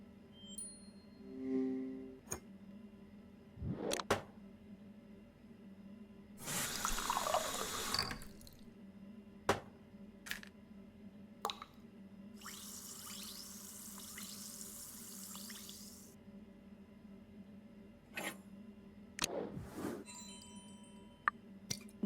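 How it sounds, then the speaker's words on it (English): Water running from a tap into a container in the video game Murder by Choice, a few seconds of splashing flow, then a tablet dropped in and fizzing, with scattered clinks and drips, fairly quiet. "Now to fill it up with water and drop one of the tablets in."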